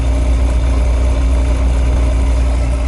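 The big electric motor of an old oil burner runs with a loud, steady, close-up hum and drone, with low tonal whine and no pauses or speech.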